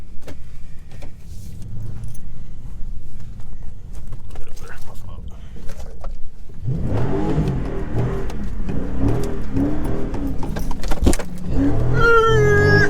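A Dodge SRT with a V6 engine, muffled cabin rumble at first, then the engine revs up loud and sustained as the car drifts through corners, with tyre noise and speech over it.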